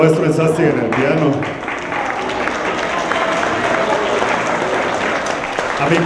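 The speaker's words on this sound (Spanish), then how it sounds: "Un aplauso al maestro Enzasti en el piano." An audience at a concert applauds musicians, a steady, dense wave of clapping that fills the room and starts under the tail of a man's announcement.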